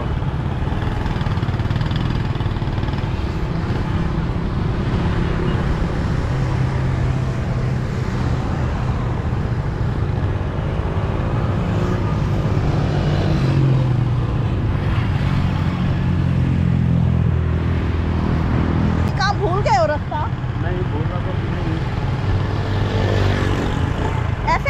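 A motorcycle rides through Islamabad road traffic, its engine droning steadily and loudly up close with wind rumble, other vehicles and a horn-like tone briefly audible in the mix, with faint voices under the noise.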